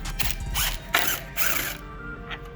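A 10 mm socket on a ratchet works loose the bolts holding a Jeep's headlight bucket, giving repeated close, dry clicking bursts with brief pauses between strokes.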